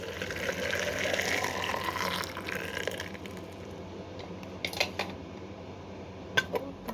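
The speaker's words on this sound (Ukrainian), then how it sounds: "Тепер заливаю кип'ятком і закриваю банки і укутую їх." Boiling water is poured into jars of marinated cucumbers, giving a soft running pour that gives way to sharp glass and metal clinks as lids go on the jars, all fairly quiet with no talk.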